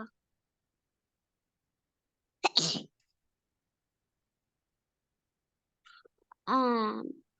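A single short, breathy sneeze breaks the silence, followed a few seconds later by a brief voiced sound.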